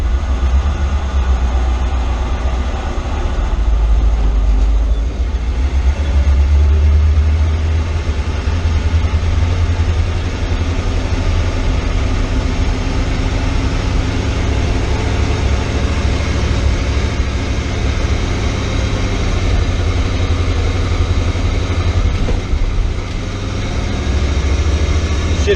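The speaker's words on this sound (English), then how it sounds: "Alright, letting out in second." A vehicle engine pulls away in second gear, a steady loud low rumble holding for the whole stretch with no talk over it.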